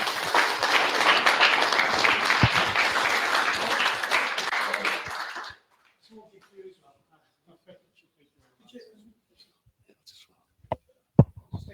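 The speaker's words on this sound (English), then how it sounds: "We'd like to thank you in our usual way, which is a round of applause." An audience at a technical lecture on foundry processes claps for about five seconds, dense and fairly close, then the applause stops abruptly and gives way to near silence with faint rustles, small knocks and a sharp bump.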